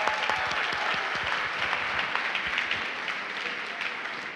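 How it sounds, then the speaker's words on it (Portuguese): A church congregation gives a strong round of applause for the women, dense, continuous clapping filling the room at steady volume, easing slightly toward the end. "Dê uma forte salva de palmas para as mulheres"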